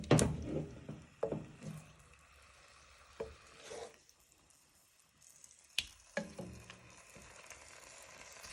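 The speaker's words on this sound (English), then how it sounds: "So you just want them to start sizzling." Sauced beef pieces for a black pepper noodle dish start to fry in a hot pan, with quiet sizzling broken by scattered clatters and scrapes of stirring and breaking up the meat.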